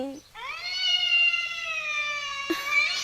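A long, drawn-out meow with a rising then steady tone, close and fairly loud, likely a person imitating a cat.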